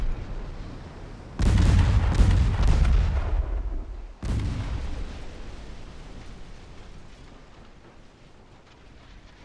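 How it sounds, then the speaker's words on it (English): Naval warship firing a torpedo salvo in a 1917 naval battle game, heard as several heavy booming launches in quick succession, then another loud burst, each decaying into a rumbling tail. "Let's see how many torpedoes are going to come out of my 4 torpedoes."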